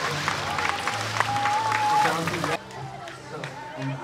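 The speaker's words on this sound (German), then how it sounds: "Großen Applaus für den Spielmann." Outdoor festival crowd at a cannonball diving contest applauding under a loud announcer's voice, the clapping dense at first then thinning out, with a whistle-like tone briefly audible.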